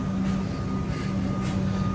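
Brief, steady low rumble and hum of a Comeng train in Melbourne's City Loop near Parliament Station, fairly loud and continuous with a thin tonal whine, no talking.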